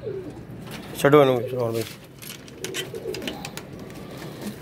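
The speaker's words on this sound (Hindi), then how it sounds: "देख सकते हैं आप कैसा कमाल का कबूतर है" Pigeons coo in a rolling, throaty burst close by, followed by softer fluttering calls. Someone speaks briefly over the birds.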